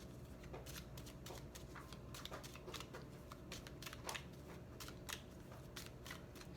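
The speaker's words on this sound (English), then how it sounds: "When I shuffle the deck, cards will flip over or pop out." A deck of tarot cards is shuffled by hand, producing quiet, repeated riffling and flicking bursts at a close, soft level with no talking.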